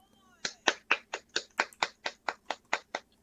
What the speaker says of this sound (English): Hand clap for Todd.